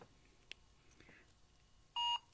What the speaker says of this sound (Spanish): Hace ese pitido